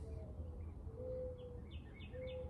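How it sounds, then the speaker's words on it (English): Birds call outdoors on an evening in a small town, with short chirps and tweets scattered over a steady low background hum, fairly faint and distant, with no talking. "Lots of bird song tonight."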